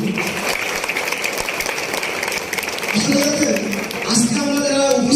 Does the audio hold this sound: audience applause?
yes